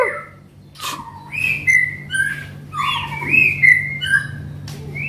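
A murai batu (magpie robin) with a 21-feather tail sings nearby, giving a run of clear, varied whistled phrases and chirps in rising and falling sweeps, loud over a low steady hum.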